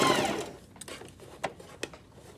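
A sewing machine running a line of understitching along a neckline facing, one short run of stitching at the start, then a few quick isolated clicks and taps in a quiet room.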